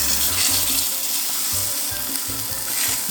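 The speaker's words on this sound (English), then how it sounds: "You need that sizzle. That means the pan is perfectly hot and ready to receive that pork chop." A pork chop sizzles loudly in a hot pan, a dense crackling hiss with occasional low thumps and scrapes, close up and without speech.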